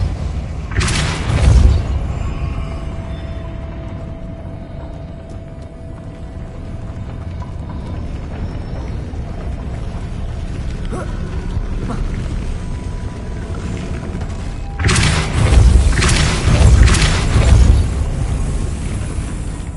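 Depulso spell casts in Hogwarts Legacy burst out as forceful, booming whooshes, one early and a louder cluster later, separated by a long stretch of low, steady ambience.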